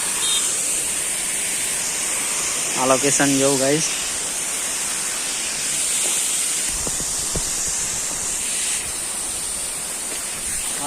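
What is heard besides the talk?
waterfall at Shiv Ghat near Ahwa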